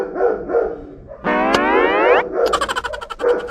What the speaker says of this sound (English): My dog is so noisy.